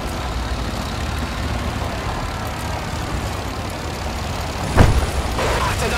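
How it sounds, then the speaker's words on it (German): A vehicle engine in Men of War II rumbling at a low, steady idle, with a sharp thump near the end and a slightly louder, rougher running sound after it. "Starten Sie den Motor!"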